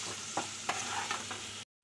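Paneer cubes gently stirred in a hot pan with pepper and salt, with a soft continuous sizzle and a few light spatula scrapes, close by and moderately quiet, cutting off abruptly near the end.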